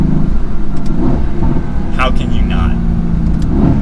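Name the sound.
Mercedes-AMG GT S sports car accelerating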